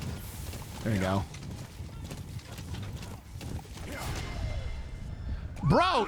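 A horse in Metal Gear Solid V: The Phantom Pain clip-clops in a steady gallop, with a couple of whinnies rising above the hoofbeats as people talk over it.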